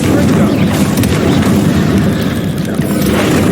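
The Confringo spell goes off in Hogwarts Legacy as a loud, rumbling explosive boom that fills the whole moment with dense, sustained low-end blast noise.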